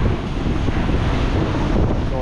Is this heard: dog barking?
no